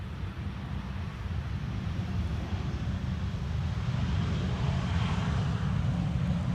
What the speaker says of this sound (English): EasyJet having arrived from Dubrovnik.